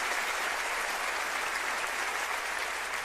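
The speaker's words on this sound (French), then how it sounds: "on peut l'applaudir, ce monsieur" Sustained, dense applause from a comedy show audience, loud and steady throughout with no pauses.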